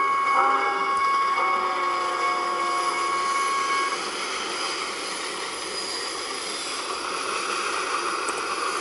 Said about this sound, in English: There's the diesel train right there.